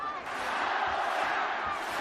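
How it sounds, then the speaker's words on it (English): Home crowd at a boxing match roaring in support of their fighter, a dense, steady arena-wide swell of cheering and shouting that fills the space continuously. "Listen to the home crowd now."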